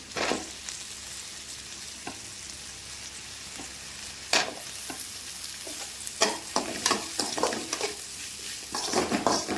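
Drumsticks and potatoes sautéing in a pan for a raw mango kuzhambu, a soft steady sizzle broken by frequent sharp scrapes and knocks of a spoon stirring, growing busier toward the end, no talking.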